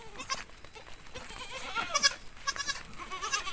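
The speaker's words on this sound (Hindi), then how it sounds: "ये हैं बकरियां" Several goats bleat on a forest path in the Himalayan hills, with repeated wavering calls from the herd rising and falling over a few seconds, some nearer and louder than others.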